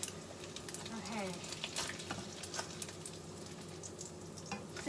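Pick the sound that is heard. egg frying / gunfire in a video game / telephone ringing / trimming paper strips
egg frying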